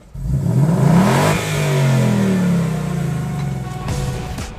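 A Ford Mustang Bullitt's active valve performance exhaust revs hard and close by, its deep engine note climbing, easing back and rising again in a few loud surges.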